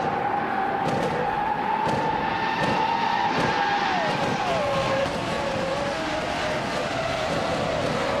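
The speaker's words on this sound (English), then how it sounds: "The race has just kicked off at Vallelunga Extended. Lynn Lilac is starting on pole, driving a classic 1996 Ferrari F310." Classic 1996 Ferrari F310 race cars in a racing video game launch off the grid at Vallelunga Extended, their engines roaring together in a loud, dense wall of sound with rising and shifting pitches and some tyre squeal.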